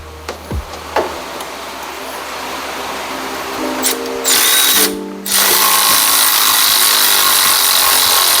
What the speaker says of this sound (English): Electric ratchet actually works in here.